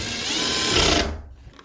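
A power drill bores through a ceiling panel to make a run of holes for a halogen LED downlight, a loud steady whir for about a second before it cuts out.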